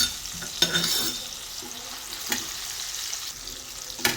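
Spinach and chili thecha sizzle and get stirred in a pan over a high gas flame, a steady close-up frying hiss broken by a few sharp scrapes of the spatula.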